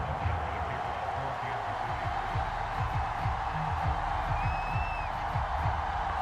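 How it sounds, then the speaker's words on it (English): A sold-out stadium crowd at a Buffalo Bills home football game against the Kansas City Chiefs in Buffalo keeps up a dense, steady roar of cheering throughout, with no clear peaks. "a moment ago they entered to the delight of this sold-out crowd"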